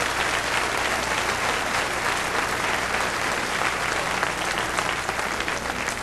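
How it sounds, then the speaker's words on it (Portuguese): Church congregation applauding during a sermon, a dense, loud, steady wash of clapping that fills the whole stretch without pause. "Agora, por favor, aplaudam a quem é responsável pela Bíblia."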